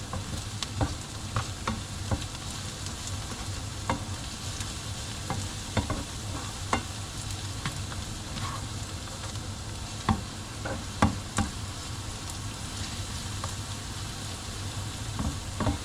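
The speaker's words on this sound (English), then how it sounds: "It's so beautiful to see the frying in the process." Garlic sizzles steadily in a hot pan, with occasional scraping clicks from stirring and no voices.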